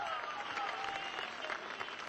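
A crowd applauds the chief minister as he performs worship at the inauguration of Shree Kalyan Pushti Haveli in Ahmedabad. The applause is steady and moderately distant, and a speaking voice carries over it.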